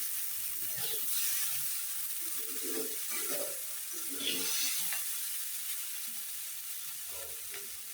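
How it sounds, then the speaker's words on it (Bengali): Tengra fish curry with potato, eggplant and beans frying in a pan, a steady soft sizzle with occasional stirring scrapes, fairly quiet and continuous with no talking. "এখন একটু ভাজি ভাজি করে নিই।"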